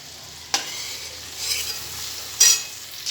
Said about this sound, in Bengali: আমি এবার ঝিঙেটা ভেজে নেবো